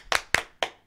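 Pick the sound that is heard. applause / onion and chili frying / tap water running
applause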